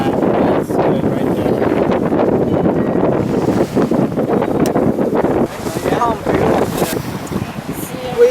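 Strong wind rushes and buffets the microphone aboard a sailboat on a broad reach, a continuous loud roar with voices talking over it.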